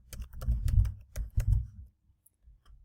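Bursts of keyboard typing, a quick run of key clicks with short pauses, close and fairly loud, then it trails off into quiet.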